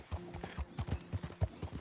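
Horse hooves clip-clopping in the video game Red Dead Redemption 2, a quick run of sharp, fairly close hoofbeats in an uneven gallop-like rhythm over a soft background, with no talk over them.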